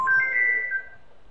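A mobile phone ringtone for an incoming Airtel call, a steady electronic tone sounding clearly for about a second before fading, heard alone during a Fortnite gaming session.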